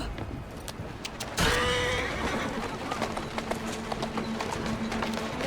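Horse-drawn carriage in Assassin's Creed Syndicate: brisk clip-clop of hooves and rolling wheels, a horse whinnying, all close and continuous.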